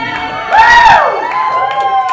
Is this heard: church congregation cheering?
yes